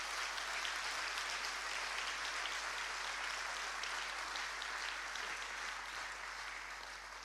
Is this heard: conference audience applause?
yes